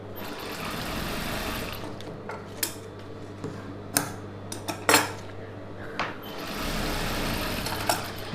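An Usha sewing machine stitches the fold of Patiala pants with a low, steady motor hum, broken by several sharp metallic clicks and knocks near the machine.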